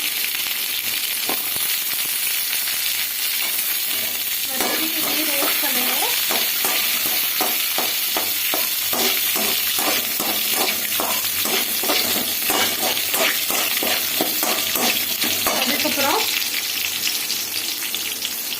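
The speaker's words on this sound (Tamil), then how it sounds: "சிம்மை கம்மி பண்ணிட்டு ஆனியன் போட்டுக்கலாம் சின்ன வெங்காயம் பத்து பதினஞ்சு பல் போட்டுக்கலாம்" Small onions (shallots) sizzle in hot oil in a pan for beetroot chutney, with a steady frying hiss and a long run of rapid spoon scrapes and stirring in the middle, heard close with no voices.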